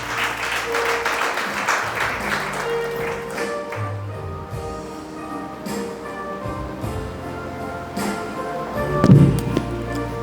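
A church congregation applauds, a dense wash of clapping that swells early and then thins into scattered claps and thumps, with a louder burst near the end.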